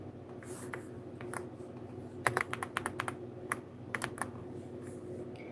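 Live typing on a computer keyboard: irregular bursts of quick, crisp key clicks, some in rapid clusters, over a steady low hum of background noise.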